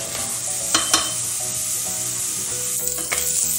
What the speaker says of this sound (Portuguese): O alho e a cebola. Vou deixando e dourando aqui